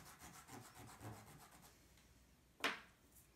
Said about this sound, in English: I'm using the chalk pastel and sandpaper to go ahead and start creating my dust.